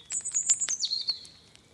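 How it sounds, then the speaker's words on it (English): Birdsong from thrushes and cuckoos among blackthorn trees, a brief bright run of high chirps and a descending whistle, clear and close with no voices. "you are serenaded by the gentle songs of thrushes and cuckoos"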